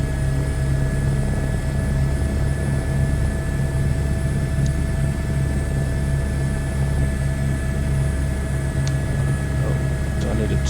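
Helicopter on a scenic flight over the Lahaul and Spiti loop, its rotor and engine drone steady and loud throughout, a continuous low thrum with a constant whine above it.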